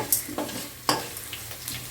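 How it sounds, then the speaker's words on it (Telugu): Garlic, green chilies and curry leaves sputter in hot oil as a tempering, a low steady sizzle broken by a couple of sharp crackling pops and light spatula scrapes, close and brief with no voices. "పోపు ఈ విధంగా బాగా ఫ్రై చేసుకోవాలండి."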